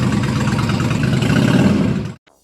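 A KTM LC8c parallel-twin engine with a 285° crankshaft runs with a throaty, uneven pulsing rumble, steady and close, then cuts off abruptly.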